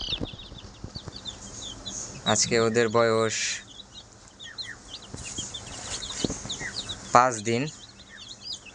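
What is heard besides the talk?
five-day-old broiler chicks chirping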